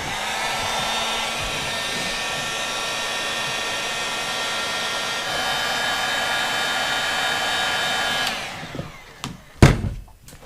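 A heat gun blows a loud, steady whirring roar close by while shrinking a solder-seal wire connector during a VW GLI stereo install, then switches off and a few handling clicks follow.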